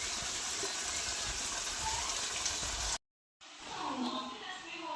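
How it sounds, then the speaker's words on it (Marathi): Drinking water gushes steadily from a pump into a container, cutting off briefly to silence before the rushing flow resumes. "आता इथे मी पिण्याचं पाणी भरायला लागले"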